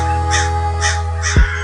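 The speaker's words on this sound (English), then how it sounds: "All you hear is crows." Several crows caw at a campsite, loud harsh calls repeating in an uneven rhythm over a steady low hum, with a brief low thump near the end.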